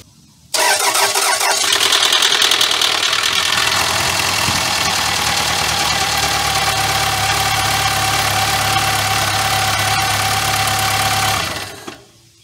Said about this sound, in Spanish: el motor está encendiendo sin ningún problema